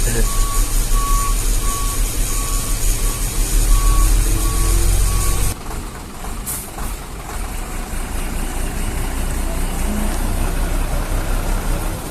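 A tronton dump truck gives regular reversing beeps over its idling diesel engine. The beeping stops partway through while the engine keeps running, with voices talking nearby.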